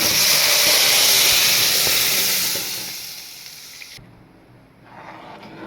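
Boiled lentils tipped into a hot oil tempering for tomato dal send up a loud, close sizzle at first, which eases to a softer hiss and dies down toward the end.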